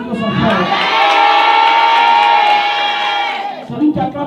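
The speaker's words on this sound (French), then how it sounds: "Celui qui crie plus fort sera plus béni que son frère." A church congregation shouts and cheers together, a loud, sustained wall of many voices that holds for several seconds and then breaks into scattered shouts.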